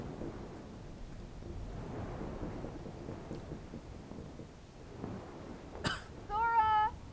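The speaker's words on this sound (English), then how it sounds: "A storm?" Thunderstorm in the Kingdom Hearts Final Mix video game, a low continuous rumble of wind and rain with a sharp crack near the end, followed by a brief voice-like cry.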